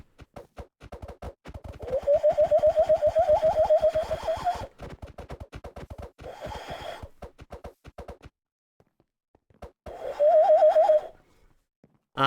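A person imitates a bird call with repeated cooing, whistly warbles in two bursts, broken up by choppy clicking mouth sounds and short pauses, loud and close.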